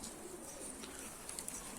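Mardin tumbler pigeons coo softly and continuously at close range, set against a steady outdoor hiss, with a few faint chirps and flutters.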